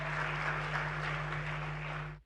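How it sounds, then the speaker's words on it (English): Audience applause at a conference opening plenary: a steady, dense wash of clapping from a large crowd, sustained evenly and then cut off abruptly, with a low hum beneath. "Another round of applause."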